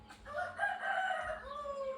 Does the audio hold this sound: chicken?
yes